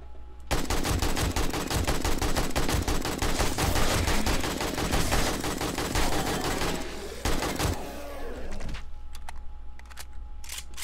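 Sustained automatic fire with armor-piercing rounds in 7 Days to Die, a loud, dense stream of rapid shots for about seven seconds, then a few scattered clicks and quieter game sounds.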